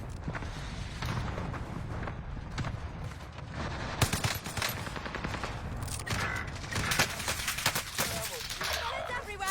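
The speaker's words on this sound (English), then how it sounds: "Bullets everywhere." Heavy gunfire in Call of Duty Warzone, a sustained fusillade of rapid shots crackling throughout, loud and dense, with bursts intensifying midway and players talking over it.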